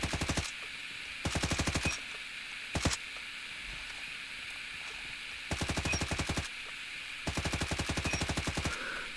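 Hip-fired Wrench Rig weapon from a zombie video game rattles out in short rapid automatic bursts, five volleys with one quick single shot, separated by quiet gaps over faint background hum.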